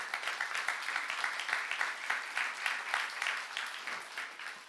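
A church youth congregation breaks into applause during a sermon, a sustained, even patter of many hands clapping at moderate distance, steady for several seconds with no voices over it.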